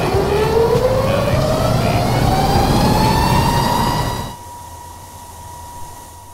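A diamond wire saw cuts through a granite boulder with a loud, close motor whine that climbs steadily in pitch. It then drops abruptly to a quieter, thinner hum.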